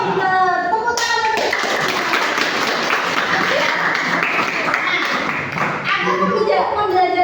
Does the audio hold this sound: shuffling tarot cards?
no